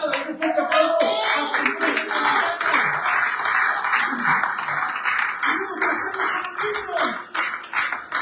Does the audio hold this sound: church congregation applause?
yes